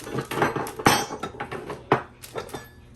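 Pumpkin roll batter being mixed by hand in a bowl, giving repeated scraping and clinking strokes of utensil against dish, with a few sharper knocks, close and fairly loud.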